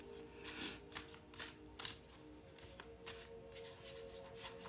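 Tarot cards are shuffled by hand in quick riffling bursts with soft flutters and taps, close and quiet, with no talking over them.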